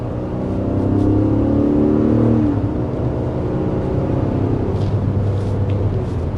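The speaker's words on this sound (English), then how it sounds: "certainly accelerating there, very nice, smooth acceleration" A 2024 Infiniti QX60 Autograph accelerates, heard as a smooth, steady engine drone with a rising tone early on, evenly loud throughout and without speech.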